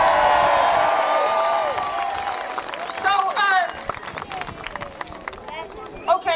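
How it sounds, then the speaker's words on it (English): A protest crowd in Blanchardstown cheers and claps after a short stretch of loud speech, with scattered whoops and applause tailing off under a general crowd murmur. "So again, give yourselves a cheer for that."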